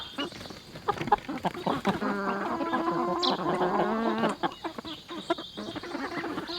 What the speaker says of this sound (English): We'll let the chickens out.